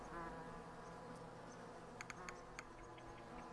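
Bees in the video game Hive Time make a faint, steady buzzing drone throughout, with a few soft clicks from the game partway through.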